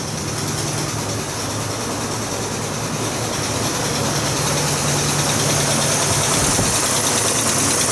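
A 1960s Pontiac V8 idling just after a hard cold start, with a bad lifter; a loud, steady rumble with a ticking texture that holds evenly throughout, no talk.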